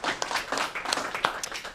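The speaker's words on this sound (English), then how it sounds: "Give her a round of applause." Scattered applause at a school board meeting, a small audience clapping briefly and unevenly at moderate volume.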